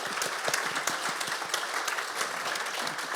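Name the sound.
audience applause for Megan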